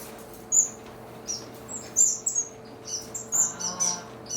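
Small birds in an aviary give short, sharp chirps and tweets at irregular intervals, moderately close against a low steady hum.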